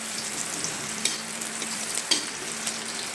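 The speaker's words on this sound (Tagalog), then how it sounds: "Ating igigisa muna itong maigi para mawala yung pinakadagta niya." Banana heart is sautéed in a pan for ginataang papaya at puso ng saging, a close steady sizzle of frying with a couple of sharp scrapes as it is stirred.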